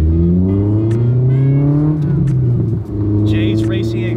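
A Honda S2000 with a racing exhaust accelerates hard from close by. Its loud engine note climbs steadily through the gears, with a brief dip at a shift, and a voice speaks briefly over it.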